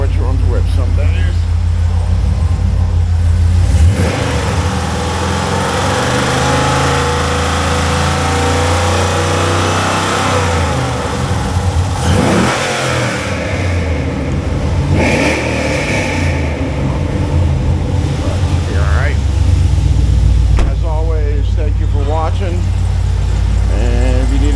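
A 2006 Pontiac GTO's 6.0L LS2 V8 at a wrecking yard runs and revs repeatedly, loud rising and falling engine roars between stretches of idle, with someone talking over it.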